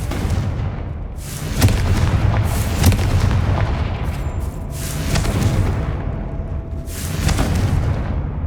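Repeated Confringo spell blasts in Hogwarts Legacy, roughly four loud booming explosions spaced a couple of seconds apart, each with a sharp crack and rumbling tail over ongoing combat noise.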